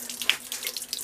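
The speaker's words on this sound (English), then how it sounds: "The faucet is off, but it's still draining the tank." Water running and trickling as an aquarium tank drains through a Python gravel cleaner hose, a steady close hiss with small splashy bursts, no voices.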